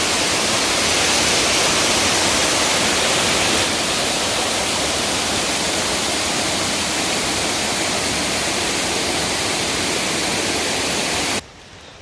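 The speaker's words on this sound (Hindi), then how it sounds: "I've reached this beautiful waterfall" A waterfall near Sakleshpur roars as a loud, dense, steady rush of falling water close by, continuous for most of the moment before abruptly dropping away at the end.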